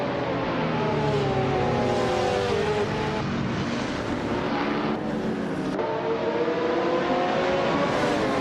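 Ferrari F430 GTC race cars launch off the start in a video game race on a short reverse track, engines roaring loud and continuous with rising revs, a gear change near the middle, then climbing again.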